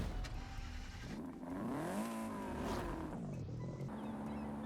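A 1960s Ford Cortina with a 4-speed gearbox driving in Forza Horizon 5, its engine note rising and falling in pitch through gear changes, fairly loud and close, with no talk over it.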